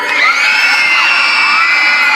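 A crowd at a Thai shopping mall event cheers and shouts loudly, a sustained bright roar of voices with children's shrieks and little pause.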